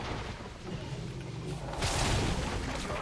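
A thrown bomb explodes in World of Warcraft, a burst of booming impact noise over a busy, dense game soundscape, loudest toward the end.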